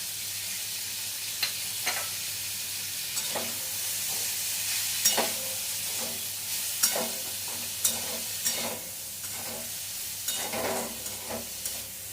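Vegetables with thickly chopped carrot stir-fried in a pan for gravy chowmein, a steady sizzling hiss broken by repeated sharp scraping and clanking stirs at irregular intervals, close and without talk.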